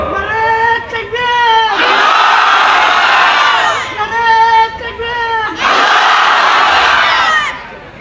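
Large crowd at a Ramadan Islamic sermon (waz) shouting the takbir in unison, two loud sustained bursts of massed voices, each answering a single leading voice calling out before it.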